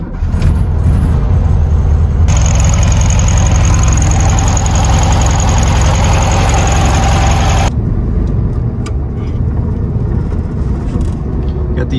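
The 1500cc air-cooled engine of a Volkswagen Beetle in Need for Speed runs loud and close, with a sustained rough drone that rises in pitch for a stretch before it settles back down.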